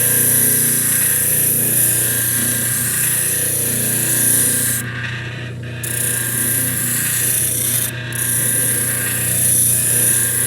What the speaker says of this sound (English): I'm lucky enough to have this spindle sander